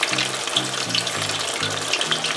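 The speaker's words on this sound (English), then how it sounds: "I'll deep fry 2 first and then I'll deep fry the other one because the pot is not big enough to handle all 3" Red snapper deep-frying in a pot of hot oil makes a continuous dense sizzle and crackle, with a low repeating hum underneath throughout.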